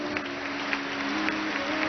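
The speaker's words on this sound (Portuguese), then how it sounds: "Aplauda a luz de Deus." A church congregation at a Catholic service applauds in a dense, continuous patter of many hands, evenly loud with small swells, over a sustained musical tone.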